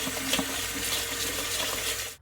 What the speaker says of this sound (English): I'm going to go ahead and rinse and drain the chickpeas.